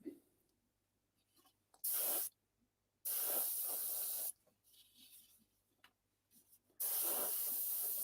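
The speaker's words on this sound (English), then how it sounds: "I will just go over the surface with that thinner that's in the airbrush" An airbrush sprays thinner across a scale model's surface in three short hissing bursts, each about a second long, with quiet handling noise in the pauses between them.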